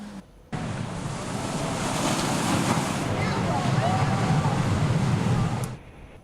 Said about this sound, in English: listen to those waves crash